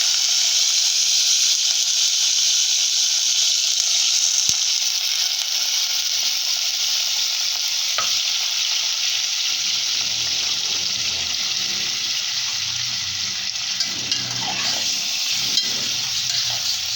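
Chicken pieces frying in two spoonfuls of hot ghee in a pan while a curry is being made, giving a steady, loud, continuous sizzle and hiss with faint stirring scrapes, no voices.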